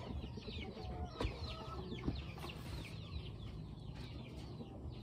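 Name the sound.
chickens clucking at feeding time on a farm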